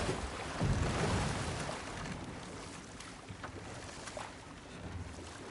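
A waterfall in God of War Ragnarok gives off a constant soft rushing roar of falling water, steady and fairly distant with gentle swells.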